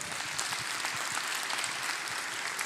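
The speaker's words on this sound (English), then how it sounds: "Let's clap for Mama one more time." An audience at a live event claps together in a steady, fairly soft burst of applause that holds evenly throughout.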